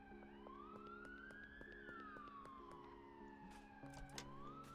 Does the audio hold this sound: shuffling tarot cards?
no